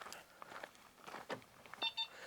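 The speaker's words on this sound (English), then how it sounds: "it's going to give that beeping noise just like in any other Stellantis car" Two short electronic walk-away warning beeps from a Citroën ë-C4 X electric car sound near the end, over faint outdoor background noise.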